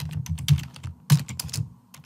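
Typing on a computer keyboard, a short burst of quick, close key clicks in two uneven clusters, alone with no talking.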